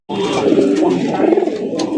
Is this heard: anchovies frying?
no